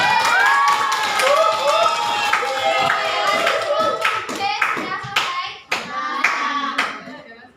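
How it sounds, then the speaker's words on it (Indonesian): A class claps loudly for a presenting group at a senior high school session, a steady burst of many hands close by while children's voices talk and call out over it. "Beri tepuk tangan dulu untuk kelompok."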